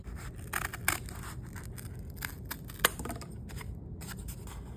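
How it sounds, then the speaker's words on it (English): Scissors cut out a paper contour shape for a 3D contour map model, giving a string of small, close snips and scraping paper sounds over a soft, steady background hiss. "I'll mark with a pen and then use my scissors to cut out."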